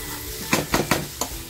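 Vajri (goat offal) frying in a pan for home-style pulao, with four sharp stirring scrapes over a steady low sizzle, close and alone.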